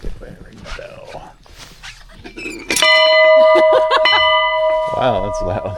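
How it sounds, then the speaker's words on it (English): A loud bell at the Nada Tunnel in Kentucky's Red River Gorge is struck once and rings on with a sustained metallic tone, while people talk and laugh before and after the strike. "ring the bell"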